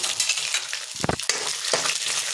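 Oil sizzles and crackles steadily as peanuts fry with cumin seeds in a pan, with a couple of sharper bursts of stirring or spattering.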